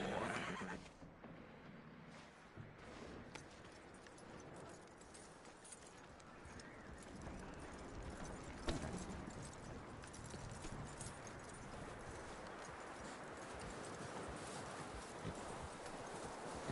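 A horse in Red Dead Redemption 2 whinnies, then hooves clip-clop in a quick repeating rhythm over game ambience, fairly close and continuous for the whole stretch.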